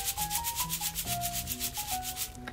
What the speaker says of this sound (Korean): 그리고 안에 보면은 이런 쉐이커들이 들어가 있어서